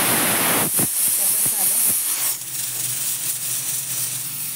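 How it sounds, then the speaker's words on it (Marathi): A kitchen mixer grinder whirring at high speed as it blends a fasting-day mixture with milk powder and sugar, a loud steady roar that eases and settles after a few seconds, close up with no talk. "आता हे परत मी थोडंसं फिरवून घेते मिक्सरमधून"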